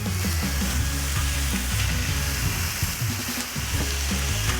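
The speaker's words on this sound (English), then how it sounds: "Listen to that sizzle. Oh man, that is one nice sizzle." Loud, steady sizzling of chicken frying on a hot Solo Steelfire 30 griddle outdoors, a continuous crackling hiss with no voices.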